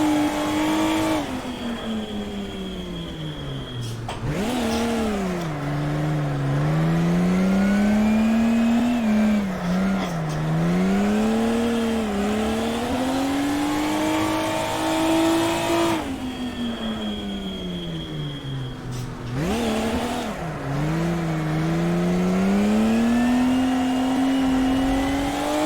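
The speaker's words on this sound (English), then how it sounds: "So I need to increase the revs to maintain the wheel spin." Drifting car engine revving hard with wheel spin, a loud sustained engine note rising and falling in long sweeping waves as revs climb and drop, with harsh bursts of tire noise and no talking.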